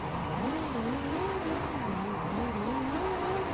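A Ferrari 296 GTB with its V6 engine drives in Forza Horizon 5, a steady, loud engine drone whose pitch wavers up and down as the throttle varies, with no voices over it.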